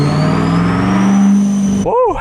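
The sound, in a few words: Chevrolet Corvette C8 engine revving on a dyno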